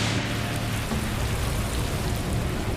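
Heavy, steady storm rain pours over a violent storm sweeping across California, a dense unbroken hiss with no voices.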